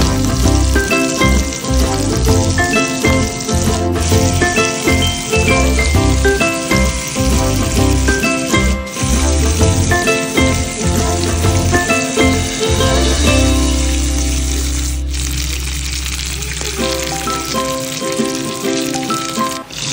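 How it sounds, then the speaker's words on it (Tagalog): Salmon laid upside down in hot olive oil in a frying pan sizzles loudly and steadily for the whole stretch, with a faint musical bed underneath and no talk. "Dito natin ipa-fry ang ating salmon upside down."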